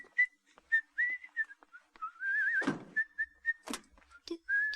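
Someone whistles a wavering tune in short phrases and sustained notes, with occasional clattering or bumps between the phrases.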